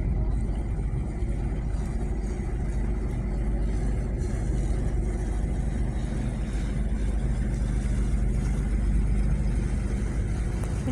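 A small boat engine drones steadily on the Chợ Gạo canal off the Tiền River in the Mekong Delta, a loud, close, continuous low rumble with faint talk underneath.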